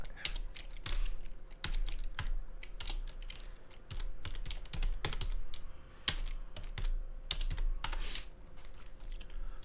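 Someone types text on a computer keyboard at a desk, the keys clicking in irregular bursts with short pauses between them. The sound is close but quiet.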